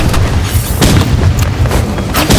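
Gunfire in the video game Rival, loud repeated booming shots in quick irregular bursts, dense and close, with the heavy blasts running almost continuously across the moment.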